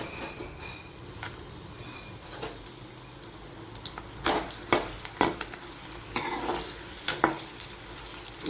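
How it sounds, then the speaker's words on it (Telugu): Buttermilk-cured chillies fry in hot oil in a pan with a steady, close crackling sizzle, and sharp pops and stirring scrapes grow busier toward the end. "ఆయిల్ హీట్ అయిన తర్వాత దాంట్లో మనం ఇప్పుడు మిరపకాయలు వేసేసుకుందాం"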